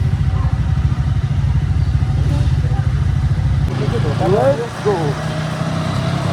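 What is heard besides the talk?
motorcycle engine running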